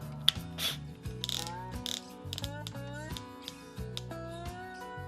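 Exterior screws are driven into a wooden crate in a home garage, heard as a close, loud, stop-start power driver whirring with rising pitch in short bursts and ratcheting clicks between them.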